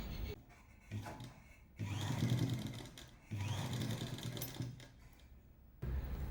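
A sewing machine stitching a second seam on dhoti salwar pants, running in bursts of steady whirring separated by short pauses, close and fairly quiet.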